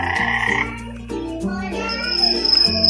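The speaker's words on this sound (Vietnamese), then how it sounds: "Tiếng ếch ợp đó. Mỗi lần mình bấm nó sẽ có thay đổi âm thanh khác nhau." A frog croak played from a button on a children's nature sound book, an electronic recording of repeated low, throaty croaks with tonal, musical shifts, loud and clear with no talking.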